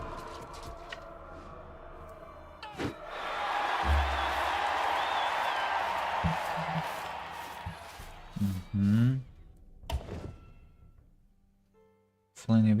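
A game arena crowd in Wartales swells into broad cheering and applause after a combat victory, a sustained roar lasting several seconds before fading under scattered game effects and short musical stings.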